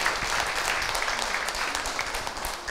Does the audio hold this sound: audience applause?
yes